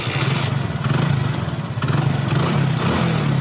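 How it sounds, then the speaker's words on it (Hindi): A Hero Passion Pro motorcycle engine runs steadily at idle nearby, a loud continuous putter with slight clattering, no voices. "अब चलिए हम बाइक को स्टार्ट करके चेकअप करते हैं।"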